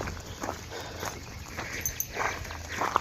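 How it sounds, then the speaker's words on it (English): Dog's claws clicking and clip-clopping on stairs, a run of light, irregular taps close by over faint background noise, with no speech. "Stairs, and you know, Clip Clop Dog goes a lot on the stairs"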